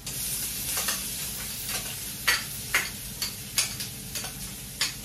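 Ginger sizzling and being stirred in a hot pan for Filipino pinakbet, a steady frying hiss broken by several sharp scraping stir strokes, close and alone.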